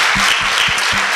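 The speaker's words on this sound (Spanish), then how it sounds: "Dele otro aplauso al Señor." A church congregation applauding for the Lord, a loud, thick roar of clapping with a few low rhythmic thumps beating underneath at a steady pace.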